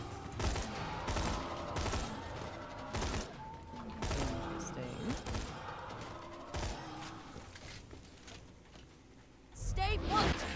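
Twister bullets fire in Borderlands 2 with a steady series of sharp gun shots spread across the clip, muffled and fairly quiet, under talk from a player, ending in a louder burst.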